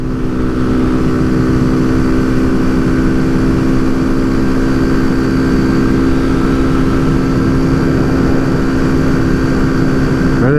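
A Kawasaki Z125 motorcycle engine held at full throttle in 4th gear on an uphill stretch gives a steady, loud, droning whine with even tone and no break, close to the rider and no talk over it.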